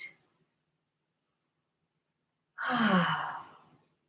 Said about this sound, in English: yawning it out